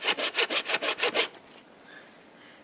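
A Bahco Laplander folding saw cuts through wood in about seven quick, rasping back-and-forth strokes, close and crisp, then stops into quiet.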